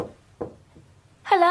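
A few sharp knocks on a door, spaced apart and fairly faint, followed by a single voice calling out.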